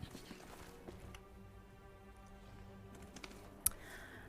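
Horse hooves walking in the video game Pathfinder: Wrath of the Righteous, soft rhythmic clip-clop steps under faint background game ambience, with a sharp click near the end.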